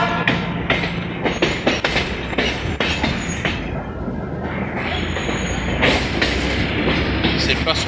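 A Sarmiento railway train runs along the Merlo–Lobos branch, its wheels clattering in repeated clicks over rail joints with occasional squeals, loud and close throughout.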